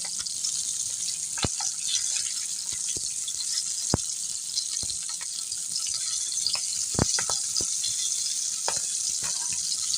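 Boal fish pieces fry in hot oil with a steady close sizzle, scattered with sharp pops and crackles throughout, and no voices.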